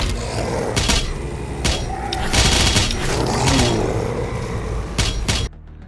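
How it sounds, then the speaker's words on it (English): Doom Eternal gameplay with dense, loud combat noise: repeated booming impacts and bursts layered over a constant roar, fitting the pickups that scatter from the flame belch, with no clearly separate pickup chime standing out in the mix. "Health pickups and armor pickups from the flame belch."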